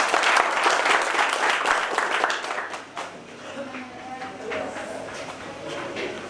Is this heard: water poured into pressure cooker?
no